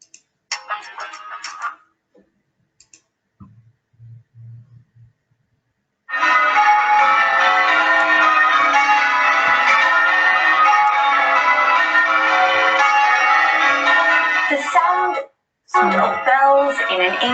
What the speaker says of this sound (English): The sound of bells in an English churchyard.